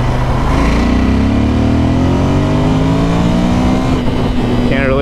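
A 2017 Ducati Monster 797 motorcycle accelerates up a highway entrance ramp, its engine note climbing steadily through the gears, loud and close with wind rush and no talk.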